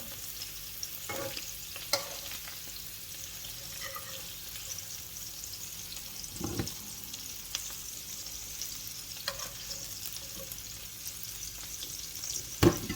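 Dried prawn shutki fries in a pan with a soft, steady sizzle, broken by intermittent scraping and stirring clinks, fairly quiet and close.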